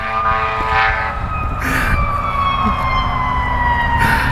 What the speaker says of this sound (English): coaches driving by, ambulance going by.